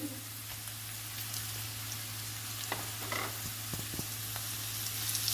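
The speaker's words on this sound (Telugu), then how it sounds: "ఈ మసాలా అంతా వేయించుకోవాలి" Spice masala with ginger-garlic paste and coconut powder frying in a pan for a flat bean curry, a steady close sizzle with scattered crackles and pops, no voices.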